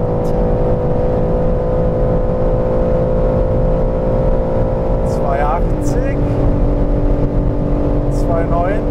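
A BMW M3 Competition at full throttle: a steady, loud engine drone heard from inside the car, rising gradually with a shift partway through, over constant road noise.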